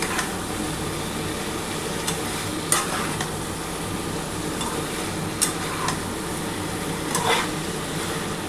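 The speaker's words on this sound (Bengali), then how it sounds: "মশলাটা দিয়ে কষানো হয়ে গেছে" Spice paste for shukto, the Bengali mixed-vegetable dish, sautéing in a pan with a constant loud sizzle and a few sharp stirring scrapes spread through it.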